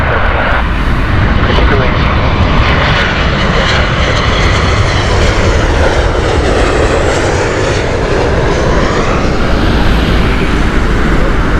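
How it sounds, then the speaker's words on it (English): A KLM Boeing 737 on the Amsterdam flight at Heathrow Airport, its engine roar loud and steady throughout, with a voice talking over it. "This is 737 of the Amsterdam flight from KLM."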